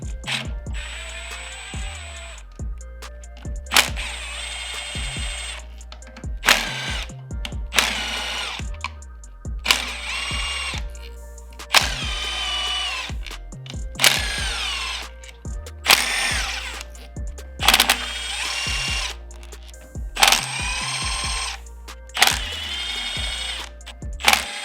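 Short bursts of a power tool whirring as it backs out the case bolts on a KTM 125SX motorcycle engine, the bursts repeating with brief pauses and small clinks between them, close and clear.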